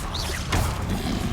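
A Confringo blasting spell cast in Hogwarts Legacy on PS5, a short crashing blast with a quick swoosh, loud and brief.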